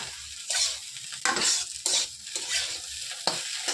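Potatoes sizzle in hot oil in a pan while a utensil scrapes and stirs in several bursts, the frying hiss swelling with each stir.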